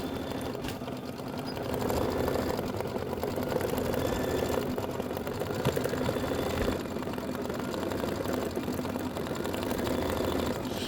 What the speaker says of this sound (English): we're gonna stitch the dimensional wing satin outline